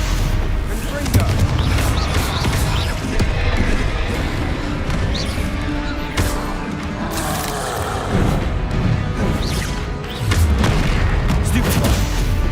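Spell blasts and explosions in the video game Hogwarts Legacy, with loud, dense booms and crashes repeating throughout over a busy combat soundscape, no speech over them.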